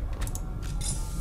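A door in SCP Containment Breach grinds and creaks mechanically as it moves, a short, close, gear-like rattle with soft hissing bursts.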